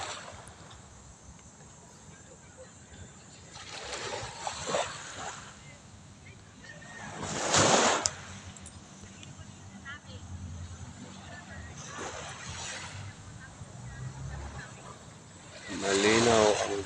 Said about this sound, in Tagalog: Malinaw ang dagat, maalon.